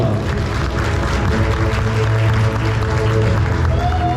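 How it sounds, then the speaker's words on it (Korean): An audience at a regional talk-and-award event in Suncheon applauds continuously, the clapping blended over a steady tonal hum or music bed in a large hall. "박수 한 번 보내주시죠"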